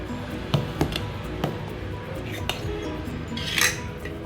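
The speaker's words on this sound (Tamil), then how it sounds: "தேவையான அளவு போட்டுட்டு நல்லா கரண்டி விட்டு கலக்கி வச்சிடலாம்" A metal ladle stirs kavuni black rice batter in a pot, giving several sharp clinks and scrapes against the vessel spaced through the stretch, with soft stirring noise between them.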